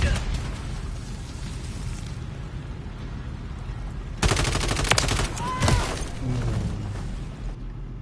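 Call of Duty combat: steady crackling gunfire runs throughout, then a grenade explosion bursts loud and sharp, followed by another heavy blast and a fading rumble.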